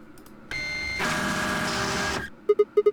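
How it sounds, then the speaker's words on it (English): Rough mechanical whir of a printer or fax machine in the Zero Escape: Virtue's Last Reward video game, a steady grinding run of about a second and a half, followed by a series of short, evenly spaced beeps. "It sounded like a printer just like faxing some machine."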